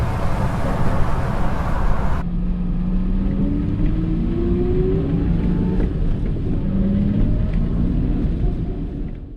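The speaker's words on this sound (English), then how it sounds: "this very nice W114 Mercedes 250" Mercedes 250 W114 driving along a road, heard from inside with a steady low engine and road rumble, wind noise heavy at first and then easing while the engine hum shifts in pitch.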